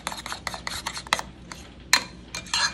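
Chebe powder hair mixture being stirred in a container, a rapid series of gritty rubbing and scraping strokes, close and moderately loud, with no talking.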